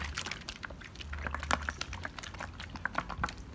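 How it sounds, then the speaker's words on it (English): An aloe vera pesticide mixture is shaken hard inside a bottle, giving close, irregular liquid sloshing with rapid rattling splashes for a few seconds. "We're just gonna shake it."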